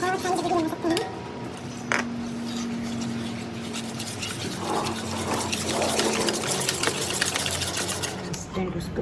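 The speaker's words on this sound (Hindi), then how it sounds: "उसके बाद हमें इसको धीरे धीरे पानी डाल के मिक्स करना है।" Yogurt batter is stirred in a bowl as water is slowly added, giving a continuous rapid scraping and sloshing churn that runs steadily throughout.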